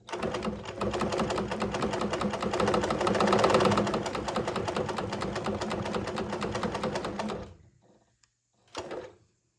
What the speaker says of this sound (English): I'm used to using my needle up, needle down, instead of letting the machine do the work.